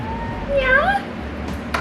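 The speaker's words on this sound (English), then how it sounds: "You meowing?" A cat gives a single drawn-out meow close by, rising and then falling in pitch, over a quiet indoor room tone with faint rustling.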